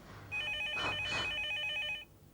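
A telephone bell rings in a quick trilling burst, moderately loud in a quiet room, then stops.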